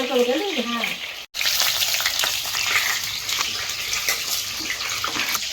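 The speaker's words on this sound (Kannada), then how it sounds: "ಒಂದು ಎರಡು ನಿಮಿಷ ಫ್ರೈ" Stuffed brinjal frying in hot oil sizzles loudly and steadily, a dense crackling hiss that runs almost the whole time with one brief break, and a voice is heard briefly at the start.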